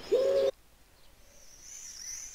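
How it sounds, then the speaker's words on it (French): A swift's song played back in an Unreal Engine demo, a short loud chirping burst followed by faint, thin high calls trailing off. "ces petits chants de martinet"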